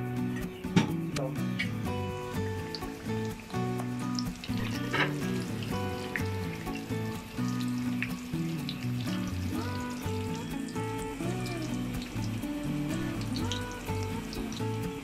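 Samosa rolls deep-frying in hot oil with a steady, dense sizzle and crackle, loud and close throughout, while a musical tone runs underneath.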